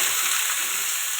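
Cauliflower, potato, peas and carrot frying in oil in a kadai, a close, steady bright sizzle with no pauses and no talking.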